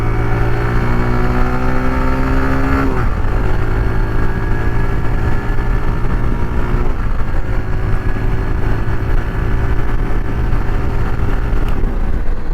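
A Hero Glamour X 125 motorcycle engine accelerates toward top speed, a loud steady drone close up with rising harmonic pitch that drops briefly at each gear change, no talk over it.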